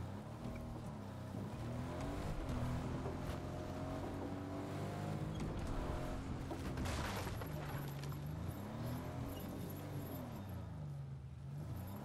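A vehicle engine drones in the Fortnite video game, its pitch rising and falling in repeated sweeps as it accelerates and shifts, steady and fairly faint with no talking.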